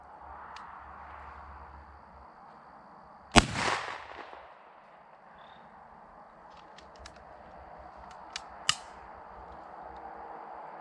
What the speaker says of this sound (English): All right, folks, let's see how the gun shoots.